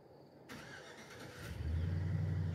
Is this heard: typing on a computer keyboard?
no